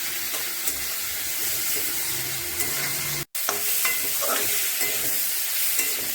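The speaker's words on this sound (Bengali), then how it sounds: "এখন মাছটা ভালো করে ভেজে নেব" Fish coated with turmeric and salt fries in a pan, giving a steady soft sizzle and hiss with occasional stirring. A very brief dropout interrupts the sound midway, and no one speaks.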